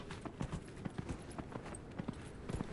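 Horse hooves clip-clop steadily in Dragon Age: Inquisition, a brisk, even rhythm of moderately loud hoof beats running continuously over a soft game backdrop.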